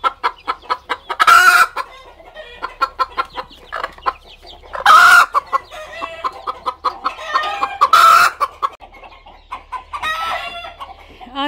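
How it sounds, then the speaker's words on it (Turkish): Chickens cluck in repeated bursts while a hen squawks loudly at intervals, guarding her chicks in a farmyard; the calls come close and insistent. "Oradaki kuk yavrularını kıskanıyor ya, bağırmaya başlayınca bunlar da tehlike var, imdat diyor."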